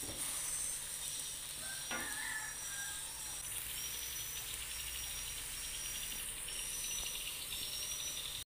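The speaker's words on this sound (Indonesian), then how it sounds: "Kita aduk-aduk terus supaya rata masaknya" Cassava leaves cook in a pan, a steady soft sizzle and hiss running throughout with faint scraping from occasional stirring, quiet and close.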